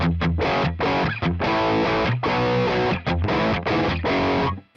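Heavily distorted electric guitar through a Fractal amp block and cab chugs through a dense rhythm riff with short breaks between phrases, loud and upfront, ending abruptly.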